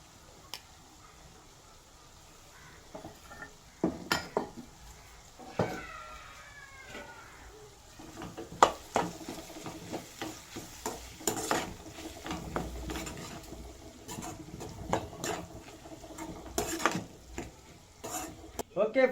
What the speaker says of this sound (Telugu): క్యారెట్ ఫ્రై అయిపోయింది